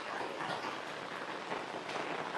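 Steady rain near Mount Mayon falls in a soft, even hiss of droplets, faint and continuous with no voices.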